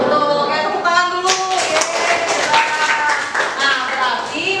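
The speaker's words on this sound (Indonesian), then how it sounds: "Oke, tepuk tangan dulu." Students in a classroom clap for a classmate who solved a problem at the front, a burst of quick, close hand claps over talking voices that trails off after a few seconds.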